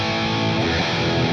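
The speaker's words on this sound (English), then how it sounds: "let's add the Tube Screamer back to the sound" Electric guitar pushed through a Tube Screamer overdrive into a Marshall JCM 800 amp plugin for an 80s rock tone, a dense, loud distorted chord sustaining steadily with no pauses.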